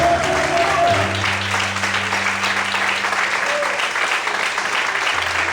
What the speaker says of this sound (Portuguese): Todos podem aplaudir e exaltar o Senhor nessa noite